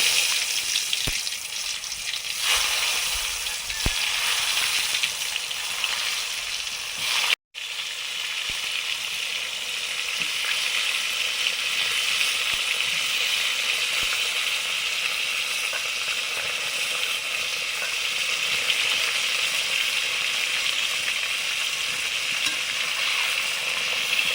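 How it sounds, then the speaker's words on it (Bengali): Pointed gourd pieces coated in salt and turmeric fry in hot oil, a dense, loud, unbroken crackling sizzle that carries on for the whole stretch, cut by one split-second gap. "পটলগুলো ভেজে নিচ্ছি।"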